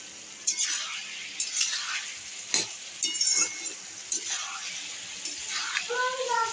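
Curry sautéing in a home kitchen pan, a steady low sizzle with stirring scrapes and utensil knocks recurring irregularly; faint voices talk briefly near the end.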